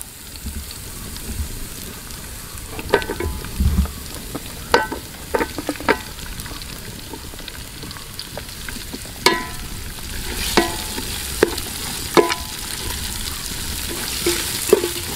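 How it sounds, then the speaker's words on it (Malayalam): Chopped onion tossed into ginger frying in a pan: a low continuous sizzle punctuated by sharp, irregular clacks and scrapes of a spoon stirring against the pan, with no talking. "നമ്മുടെ ഇഞ്ചിയൊക്കെ ഒരു വിധം വഴണ്ടി വന്ന് ആ സമയമാകുമ്പോഴേക്കും നമ്മൾ അരിഞ്ഞു വെച്ച സവാള ഇതിലേക്ക് ഇട്ട് കൊടുക്കുക"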